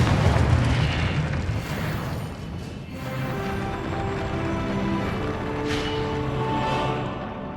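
Confringo fire spells bursting in Hogwarts Legacy gameplay, a loud, continuous roar of fiery blasts and crashing debris that fades into a rumbling, ringing tail, with no one talking.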